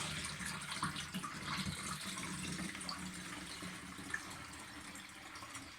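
Warm milk replacer, about one and a half litres, is poured for feeding calves, making a steady splashing, trickling stream of liquid at close range with a brief clink partway through.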